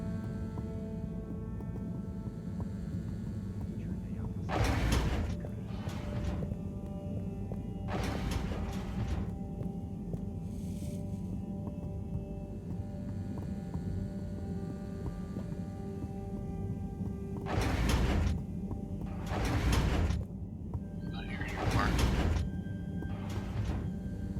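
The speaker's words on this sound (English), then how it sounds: "The elevator again." A moving elevator in the video game Harold Halibut gives a continuous low mechanical hum and rumble, marked by several loud whooshing or thudding surges at irregular moments, with no voices.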